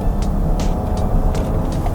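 A Nissan X-Trail e-Power SUV pulls away from a full stop under hard acceleration, giving a steady low road and motor rumble with faint intermittent higher whooshes, heard from inside the car.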